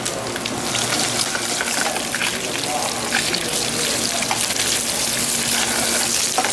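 Sablefish searing in a hot, thick pan with capers, garlic and lemon vinaigrette, giving a loud, steady sizzle and spatter that runs throughout without a break.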